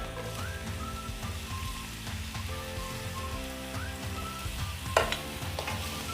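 Sliced onions with a piece of cinnamon and three cloves sautéing in hot oil, a soft sizzle under background music with a brief louder stir near the end.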